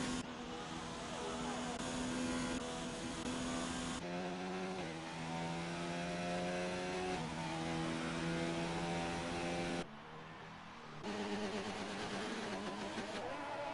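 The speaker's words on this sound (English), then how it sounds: "This KP has got a rev glitch" A Formula 1 car from the F1 2019 racing game holds a steady high-pitched engine drone with a stuck rev glitch, the note shifting in flat plateaus rather than rising and falling, briefly dipping near the end before resuming, with no talk.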